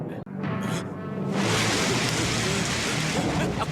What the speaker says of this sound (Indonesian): Aku paling benci hujan.